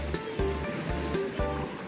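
Gentle sea waves wash in at Oura beach, a swimming beach on Tsushima island, Japan, with fairly calm surf. The washes come in soft repeated pulses, fairly close, and no one speaks.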